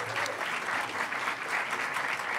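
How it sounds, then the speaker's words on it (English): An audience at a lightning talks event applauds in a brief steady burst of clapping, fairly close and even, with no voices over it. "one last final round of applause for all the lightning talks"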